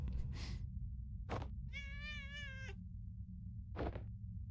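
A cat in the video game Imposter Factory gives one clear, wavering meow, close and distinct, set between short bursts of noise over a steady low background hum.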